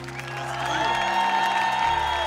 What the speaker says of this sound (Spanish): pido un aplauso por su tremenda voz